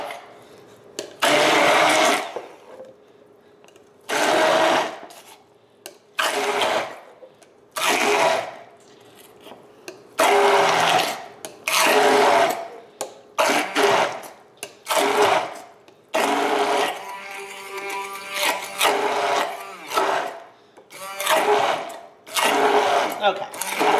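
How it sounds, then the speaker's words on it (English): KitchenAid stick blender pureeing carrots in repeated loud whirring bursts of a few seconds each, stopping and restarting, with brief pauses between pulses. "I am going to the KitchenAid stick blender."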